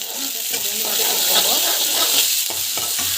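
Mustard seeds, cumin and onion frying in hot oil in a home kitchen, a steady loud sizzle with crackling pops and scraping stirs throughout.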